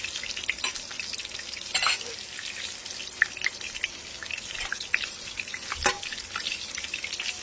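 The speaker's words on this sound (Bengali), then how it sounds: "দেখুন, বেগুন ভাজছে।" Brinjal slices fry in a pan on a gas stove, giving a close, steady sizzle dotted with sharp crackles and pops that keep going with no voices.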